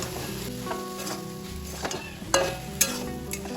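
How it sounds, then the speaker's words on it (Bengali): Taro flower curry with prawns and malabar spinach sizzles gently in a pot, a soft steady hiss with a few light spoon scrapes near the end. "আমি এবার ঢাকাটা একবার খুলে নেব হালকা হাতে নেড়ে দেব"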